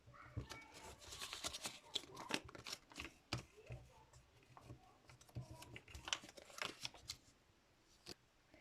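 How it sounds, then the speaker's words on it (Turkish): A small piece of cut cardboard folded back and forth into a decoration, making soft, close crinkling and creasing taps in quick irregular bursts, faint overall. "Şimdi bir ters bir düz, düz şeklinde katlıyoruz."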